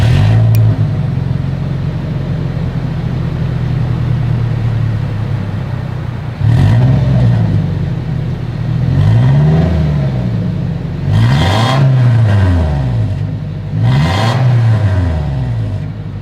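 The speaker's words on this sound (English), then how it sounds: "As always, here is that exhaust clip." A Toyota Tacoma's exhaust is revved repeatedly while parked: after a steady idle drone, four sharp throttle blips rise and fall in quick succession, loud and close with no talking.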